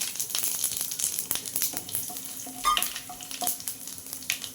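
Dry red chilli, whole cumin seeds and torn bay leaf sizzle in hot oil, a steady crackling fry with scattered pops and the occasional clink of a stirring spoon against the pan.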